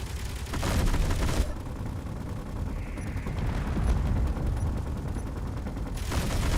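Weapons fire in the space-building game Space Engineers: loud rapid bursts of gunfire open the moment, drop back to a rumbling, busy background, then surge again at the very end.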